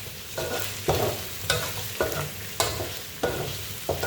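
Pork cracklings stirred in a pan of hot frying oil: steady bubbling sizzle with repeated scraping stirs roughly every half second, close and moderately loud, no talking.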